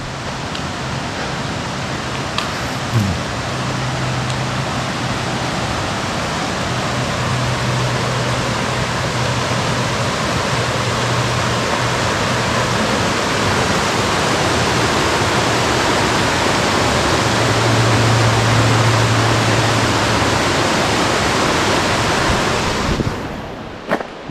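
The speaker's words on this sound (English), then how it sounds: "We made it to Mousetail Falls." Mouse Creek Falls in the Smoky Mountains roars as a steady, loud, broadband rush of falling water, unbroken for the whole stretch, with no voices.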